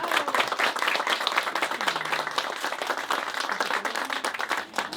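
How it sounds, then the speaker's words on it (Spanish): Audience applause at a book presentation event in Pánuco, Zacatecas: dense, steady clapping from a crowd that continues for several seconds, fairly close and loud throughout. "Fuerte el aplauso para él."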